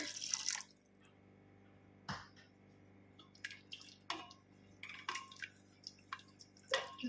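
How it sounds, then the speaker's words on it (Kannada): Half a cup of water poured into a mixer jar while preparing kabuli chana kurma, heard as scattered close drips and light splashes of liquid over a quiet kitchen background, with no talking. "ಈಗ ನಾನು ಕಡ್ದಿಟ್ಟಿರೋಂಥ ಮಿಕ್ಸಿ ಜಾರಲ್ಲೇ ಅರ್ಧ ಕಪ್ಪಷ್ಟು ನೀರು ಹಾಕಿ ಆ್ಯಡ್ ಮಾಡ್ಕೊತಾ ಇದ್ದೀನಿ."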